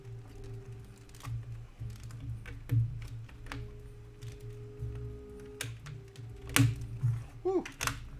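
Small plastic LEGO pieces click and press together while building the LEGO Bookstore modular set, a series of light, scattered snaps and taps over a low room hum, with a couple of sharper clicks near the end.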